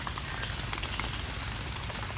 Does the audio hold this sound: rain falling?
yes